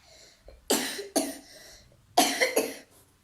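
Three loud, harsh coughs close to the mic, two in quick succession and another after a short pause, with no talking.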